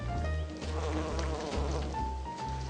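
Bumblebees buzz steadily in a garden, a continuous droning hum with slight pitch shifts as the insect moves near the microphone.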